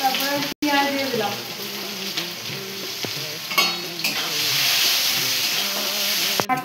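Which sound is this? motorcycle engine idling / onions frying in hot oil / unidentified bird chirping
onions frying in hot oil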